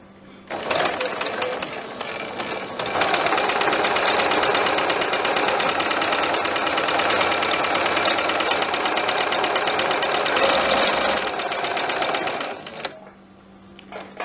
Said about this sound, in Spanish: bajamos la palanca del prensatela y comenzamos a coser